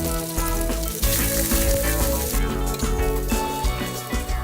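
Ground pork sizzling and crackling loudly in a hot pan with onions, steady frying with a few stirring clatters, close and without talk.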